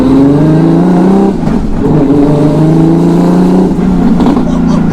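Turbocharged R36 hot hatch engine revving hard in second gear, loud and close with strong harmonic drone that dips briefly and climbs again, with excited voices over it.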